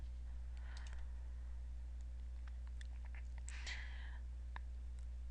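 Scattered light keystrokes on a computer keyboard while a math function is entered into a graphing program, irregular and soft over a steady low electrical hum, with no voices.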